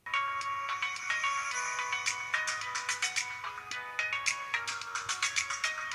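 Music from a tablet's built-in stereo speakers, a bright, thin melodic tune with plucked, bell-like notes in a quick rhythm, fairly quiet and lacking bass, with no talking.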